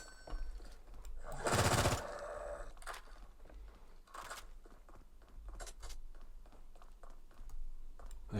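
Gunfire in a Roblox shooter game: one loud burst of rapid shots near the start, then scattered lighter shots and clicks over background game noise, with no one speaking.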